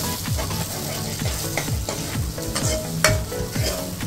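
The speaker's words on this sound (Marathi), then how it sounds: "मिक्स करून घ्यायची." Cooked dal stirred in a pan, a spoon scraping in quick repeated strokes over a soft sizzle, close and fairly loud, with no talk.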